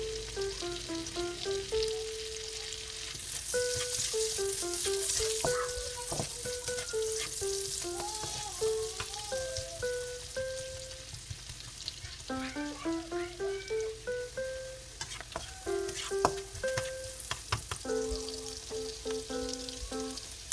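Onion sizzles in a pan for a beef and vegetable stir fry, a soft crackling sizzle running under a melodic music backing with occasional stirring clatters.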